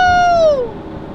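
A BMW X3 M Competition with a Valvetronic cat-back exhaust, valves open, and high-flow catted downpipes gives a loud, close exhaust note that falls sharply in pitch as the revs drop, then fades within about a second.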